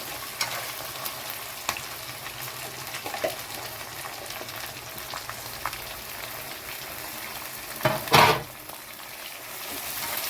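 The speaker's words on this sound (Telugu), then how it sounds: "ఉత్తు నూనెలో లివరేస్తాం కదండి కొంచెం సిల్లు కదండి కొంచెం జాగ్రత్తగా వేసుకోండి" Liver frying in hot oil for a spinach liver fry curry, a steady broadband sizzle running throughout with a few faint clicks and a louder spluttering burst near the end; no voices.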